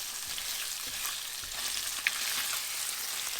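Food sizzles in a hot oiled pan while cooking a moo shu dish, a steady, close hiss of frying that holds evenly throughout with one brief clink partway, no voices.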